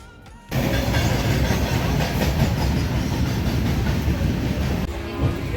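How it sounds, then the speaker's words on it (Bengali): A new passenger train runs on the Bhubaneswar to Puri route, heard from inside with a steady loud rumble and rhythmic clickety-clack of wheels on rails, close and continuous. "আর একটা নতুন ট্রেন।"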